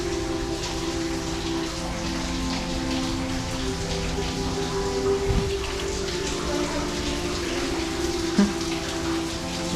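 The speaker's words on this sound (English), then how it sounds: "Just I hear the water, that's about it." Water runs steadily beside a rocky, slippery path on New Zealand's South Island West Coast, a constant soft rushing with no breaks.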